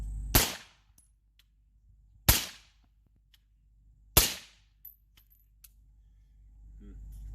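Three sharp, loud shots from a rifle fitted with an Odin Works suppressor ring out outdoors, evenly spaced about two seconds apart, each a crisp crack with a short fading tail and faint echoes between.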